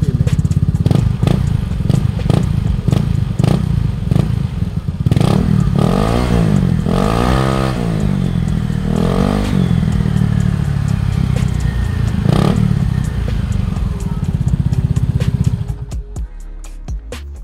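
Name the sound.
motorcycle racing exhaust revving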